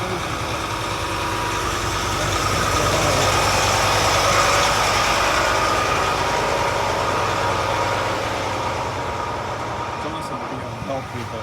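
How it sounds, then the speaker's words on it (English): A truck drives past an outdoor lot. Its steady diesel rumble and vibration swell and then slowly fade, with no talk heard. "We got another truck coming by here"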